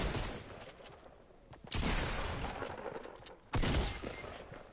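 Shotgun gunfire in a video game, three heavy booming blasts spaced roughly two seconds apart, each with a long decaying tail, fairly loud with no voices.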